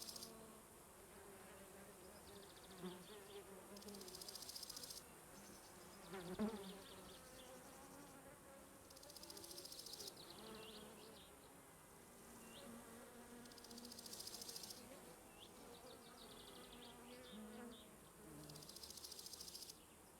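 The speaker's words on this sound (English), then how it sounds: "Can hear the wasp coming up behind me." A wasp in a video game buzzes in repeated swells, drifting nearer and farther over a faint background, its droning whine rising and fading several times.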